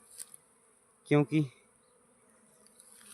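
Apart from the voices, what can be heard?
honeybees buzzing at a hive box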